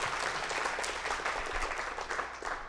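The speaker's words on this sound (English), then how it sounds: "Let's give Kim a round of applause, please." An audience at a small coffee-with-the-candidate campaign event in Nevada, Iowa, claps in a steady, dense round of applause, fairly close and even throughout, with no voices over it.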